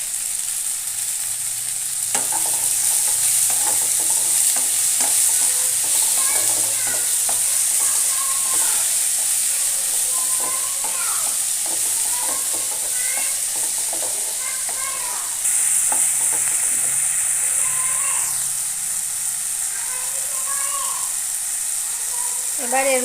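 Tomatoes with a little salt fry in a pan, a constant bright sizzle with scraping and clinking from stirring throughout, and a voice speaking at times over the cooking.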